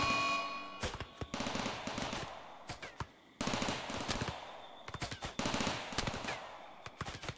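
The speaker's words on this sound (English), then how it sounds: "He's on human revenge, so my turrets are actually going to take him down." RimWorld gun turrets firing on a zombie, sounding as loud bursts of rapid automatic fire broken by short pauses, with quick bursts of shots repeating across the whole stretch.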